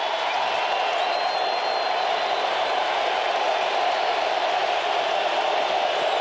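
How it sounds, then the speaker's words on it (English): A football stadium crowd at a 2006 Cowboys versus Falcons game swelling on a big third down, a dense continuous roar of many voices holding steady and loud throughout. "Crowd's really getting loud right now."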